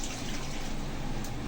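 Filtered water pours steadily into a cooking pot during biryani preparation, making a continuous close splashing rush for a second and a half with no talking.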